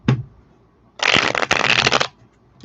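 Tarot cards are riffle-shuffled up close in one rapid, dense burst of about a second, with a brief tap before and after.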